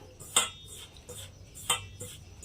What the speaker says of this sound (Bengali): ময়দা আর সুজিটা আমি খুব ভালোভাবে মিশিয়ে নিলাম।